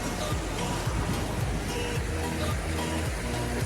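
Water rushing over rocks above Ethipothala Waterfalls, a steady broadband wash with low churning texture throughout, fairly close and continuous, with no voices.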